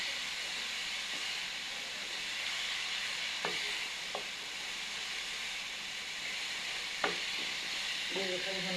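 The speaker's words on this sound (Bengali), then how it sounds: "ভালো করে ভাজা ভাজা করে নেব।" Ground turmeric and coriander spices fry in a hot pan with vegetables, giving a steady broad sizzle, with a few soft clinks of a stirring spoon against the pan.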